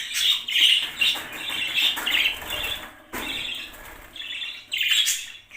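Budgerigars chatter and chirp in loud, busy bursts, with brief pauses and a momentary break midway, close by.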